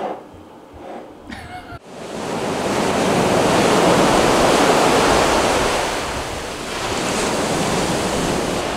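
Surf rolls in steadily at a beach beneath a pier in Carolina Beach, a broad continuous wash swelling and easing without a break, loud and close, after a short quieter stretch with some faint handling noise at the start.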